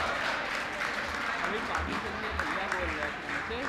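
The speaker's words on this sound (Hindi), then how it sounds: "अगर आपका भी ऐसा हाल है तो जरा बहुत अच्छी से तालियां बजा करके उनका अभिनंदन" Audience clapping at a kavi sammelan poetry gathering for a 67th birthday celebration, a steady wash of applause with faint voices and murmurs mixed underneath, fairly even in level throughout.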